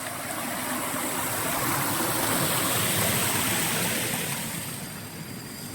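Steady roar of the Tad Ton Nong Sung waterfall in Mukdahan, Thailand: broadband rushing and splashing water, loud and continuous throughout with no talk over it.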